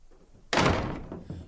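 Shed door shut hard in a foggy forest, a single heavy slam with a short ringing tail and a faint secondary knock or clunk of the lock just after.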